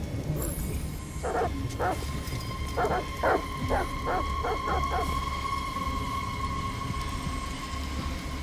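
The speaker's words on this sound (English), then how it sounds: "Goddamn dogs. What the fuck are they barking at?" Dogs barking in the video game Detroit Become Human, a series of sharp barks in short bursts over a low rumbling background, a little distant, with no talk over them.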